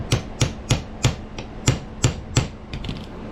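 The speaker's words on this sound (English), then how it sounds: "Take a center punch." Hammer strikes on a center punch set into knife steel ring out in a steady rhythm, about eight sharp metallic taps spaced roughly a third of a second apart, close and clear, followed by a few lighter taps.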